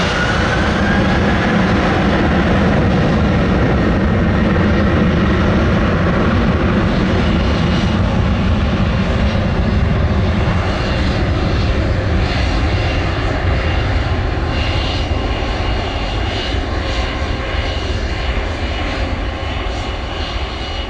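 Airliner engines roaring at Montego Bay's Sangster International Airport, a loud continuous jet rumble with rising whine holding steady throughout a takeoff roll, no voices heard.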